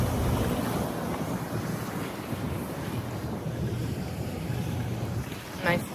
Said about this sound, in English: Nice boat.